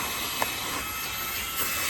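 A Fanttik Slim V8 Apex portable car vacuum runs steadily with a loud, even broadband whir, unchanging over two seconds apart from a small click near the start.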